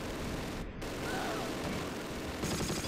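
Gunfire from the Close Combat: The Longest Day war strategy game, a dense continuous crackle of rifle and machine-gun shots with a brief gap, then louder bursts near the end.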